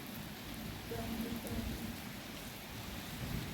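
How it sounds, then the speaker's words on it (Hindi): Steady rain hisses evenly throughout, with a low rumbling underneath that could be distant thunder or wind. "और देखो बारिश की शुरुआत है।"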